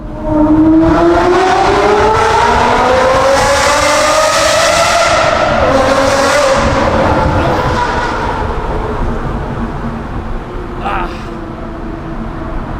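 Aston Martin V12 with a manual gearbox roars through a tunnel, the engine note rising steadily as it accelerates and echoing off the walls, loud and sustained, with talk over it throughout.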